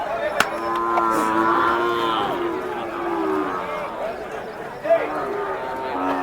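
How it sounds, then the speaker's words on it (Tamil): Cattle at an Anthiyur livestock market moo in long, drawn-out calls over a busy background hum, while people talk nearby. "இப்போ மாடு இது உங்கள் மாடுங்களா?"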